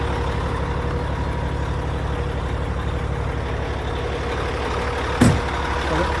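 Volvo dump truck with an L10 diesel engine running steadily, a loud continuous low rumble with one sharp brief knock near the end.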